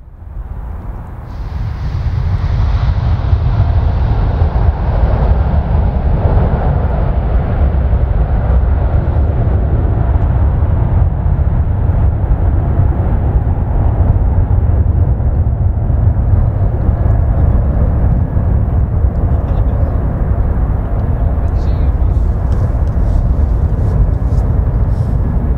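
KLM airliner, flight KL735, spooling its jet engines for takeoff from runway 36 left: a loud, steady roar that swells up quickly and then holds, broad and rumbling, for about 25 seconds, with no talk over it.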